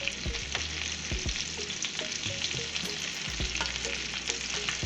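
Crusted lamb chops sear in a pan over medium heat, with a continuous, even frying hiss and occasional faint clicks or shifts of the pan, close and steady with no talk.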